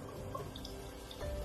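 Liquid drips steadily in a quiet indoor space during a healing ritual, a soft trickle running under low background noise with no talking.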